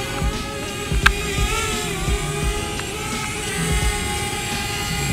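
A DJI Spark drone descending to land, its small propellers giving a steady high-pitched whine with harmonic tones, close by, over a low rumbling background and a sharp tap near the first second.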